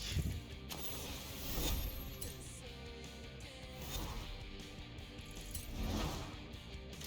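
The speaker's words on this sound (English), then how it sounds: "it gives you a horizon wheel spin, and you can choose a random gift" A Forza Horizon 4 wheelspin prize wheel spins with a continuous ticking, clicking mechanical rattle that swells and eases in waves over several seconds, steady and moderately loud with no talking.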